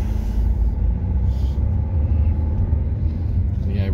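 A car pulls away from a driving test centre in Stafford, its steady low engine and road rumble continuous and fairly loud throughout, with no clear speech over it.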